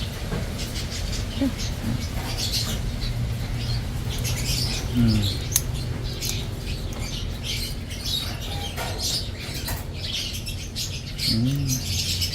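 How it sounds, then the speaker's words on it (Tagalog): Small birds chirp in short, high calls during hand feeding over a steady background hum, with scattered rustling and a few soft squeaks nearby. "habang nag-hand feed ng kapatoka ng ibon"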